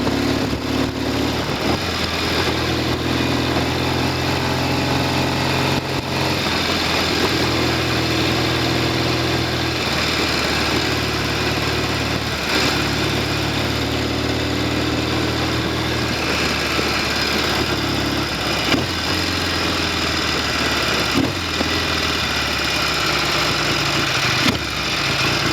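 A Norton Commando 750 motorcycle engine with tickover trouble idles steadily and close, a continuous low throbbing rumble with slight fluctuations in pace, running alone without talk.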